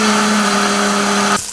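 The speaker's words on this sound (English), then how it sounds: "we'll take our Vitamix here, or any high-speed blender, and then we'll just blend this really well" A Vitamix high-speed blender whirs loudly and steadily while blending zucchini broccoli chicken soup, then cuts off abruptly at the end.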